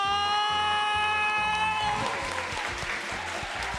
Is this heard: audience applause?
yes